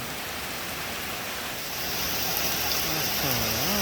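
Rain drips and patters from a thatched vetiver-grass roof of a temple hut in steady, dense noise that swells slightly partway through, with a faint tonal sound near the end.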